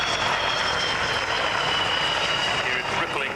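An aircraft drag chute ripples in the wind at the 1992 Boscombe Down international airshow, a steady, loud broadband rushing flutter with aircraft noise mixed in throughout.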